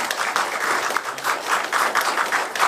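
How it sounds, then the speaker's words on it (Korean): Congratulatory audience applause at a Korean cultural centre forum, with steady, moderately loud clapping throughout. "우리 축하 박수 한번 보낼까요?"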